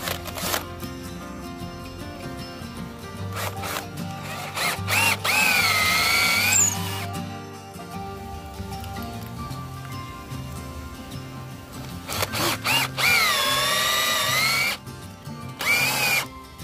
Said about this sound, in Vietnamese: mình có hai con ốc con tết nè, mình bắn vô thử trên đây rồi coi nó vô nổi không nha